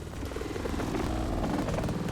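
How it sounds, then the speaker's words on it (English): Helicopters in the video game Goldeneye: Rogue Agent, played on an Xbox 360, make a steady loud rotor thrum and engine drone that holds constant throughout, with no talking. "now I hear the helicopters"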